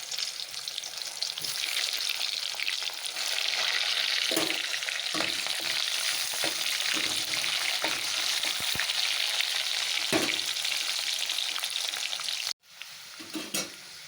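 Chopped onions and two bay leaves frying in oil for a spicy kangla fish curry, a steady close sizzle with occasional stirring knocks and a brief sharp break near the end.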